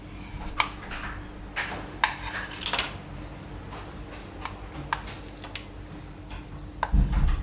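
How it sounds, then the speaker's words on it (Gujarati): A knife cuts paneer into small pieces on a hard surface, producing a series of sharp, irregular clicks and taps at close range with brief quiet gaps between cuts. "તો આ રીતના આપણે ટુકડા કરી લેવું પનીરના"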